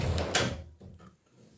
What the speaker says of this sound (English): Close my door for me.